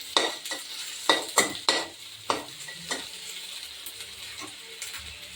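Dal being tempered in a kadai bursts into loud sizzling crackles in a rush of sharp spits near the start, then settles into a fainter bubbling hiss with occasional pops, close by and with no talk.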